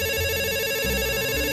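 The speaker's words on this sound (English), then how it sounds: "her phone rang again." A phone ringtone rings steadily and fairly loud on its own, a sustained electronic tone pattern with no talking over it.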